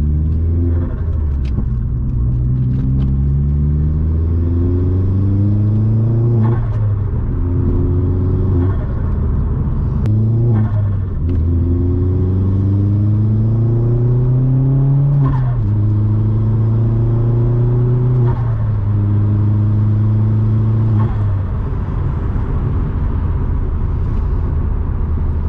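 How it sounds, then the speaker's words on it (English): Vauxhall Astra VXR engine rumbling steadily from inside the car while driving, with repeated rising revs through the gears and brief dips at each shift, loud and continuous without talk. "That was it from a point of view drive in the Astra VXR."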